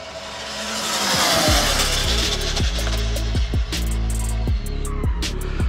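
An ARRMA Limitless V2 GT RC car running on 4S4P LiPo batteries, its electric motor whining loud and close, rising and falling in repeated sweeping revs as it accelerates and brakes over several seconds.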